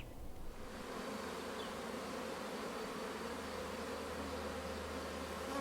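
Many honeybees buzz continuously in a dense, steady drone at a family apiary in a Bosnian village, close and all around, with no talking.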